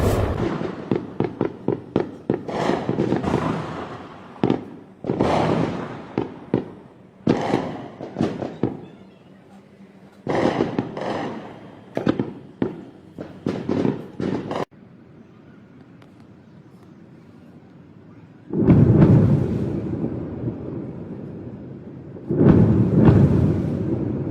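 Rapid booms and crackling blasts from Iranian air defenses intercepting Israeli missiles and drones, fired in dense stuttering volleys with short gaps, followed by a couple of longer rumbling roars.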